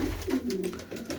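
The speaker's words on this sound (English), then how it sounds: "Fantastic pigeon, really good top quality cockbird from John Angwin." A top-quality pigeon cockbird in a breeding loft gives a short, soft cooing call, a few low throaty pulses close by with no talk over it.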